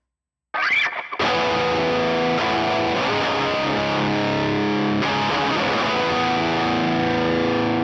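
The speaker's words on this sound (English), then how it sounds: "You hear that was on the reverb, and the tube screamer does its job as it should." Electric guitar played through a NUX MG-30 with tube screamer drive and reverb: a sudden strum rings into thick, sustained distorted chords, loud and steady with a fresh attack partway through.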